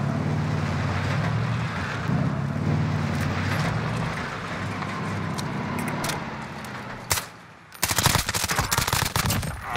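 Rapid automatic gunfire from an MP5 in the video game Warzone, a loud burst of closely packed shots near the end after a stretch of steady background noise and rumble.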